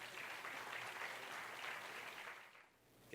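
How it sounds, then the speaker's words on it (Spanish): Audience at a talk on sustainable illustration applauds to welcome a speaker, dense clapping held for about two and a half seconds before fading out. "Lo recibimos con fuertes aplausos."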